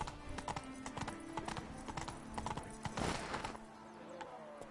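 Hooves of Roach, the horse in The Witcher 3, clip-clop in a steady trot, with a short snorting neigh about two thirds of the way through and faint game voices in the background.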